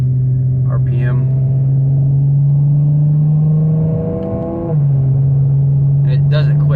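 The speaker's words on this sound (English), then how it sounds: "So I want to back it down a couple gears, get some RPM." Car engine revving up after a paddle-shift downshift, a steady mid-pitched drone that climbs briefly and settles, heard close from inside the cabin with some talk over it.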